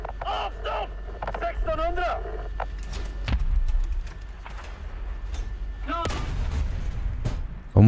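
A tank cannon fires in the combat game War Thunder, a sharp heavy blast near the end amid rumbling engine noise, with someone talking excitedly over it.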